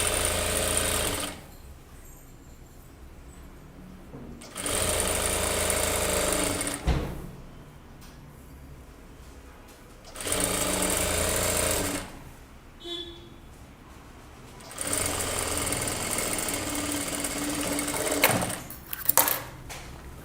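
A sewing machine stitches a one-inch seam on kurta lining in several separate bursts of steady whirring, with quiet pauses and faint handling noises between runs.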